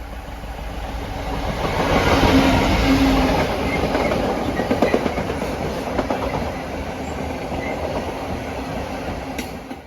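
A train passes on the Marston Vale Line near Stewartby Brickworks, rumbling up loud within a couple of seconds, then a rhythmic clickety-clack of wheels over rail joints with a brief squeal before fading slightly, no talk.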